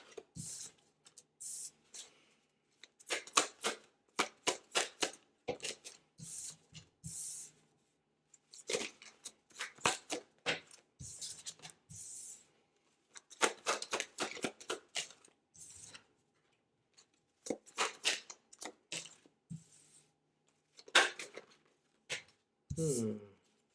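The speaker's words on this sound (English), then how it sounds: "Let me just pull some cards and see what we got going on here." Tarot cards shuffled and pulled close up, repeated bursts of riffling and flicking card sounds separated by short pauses, crisp and near.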